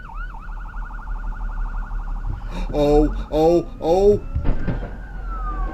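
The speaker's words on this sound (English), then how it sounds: "There's a police car." Police car siren in a played video, a wailing electronic tone that cycles steadily and loud from the start, with a voice exclaiming briefly and other harsh noises breaking in partway through.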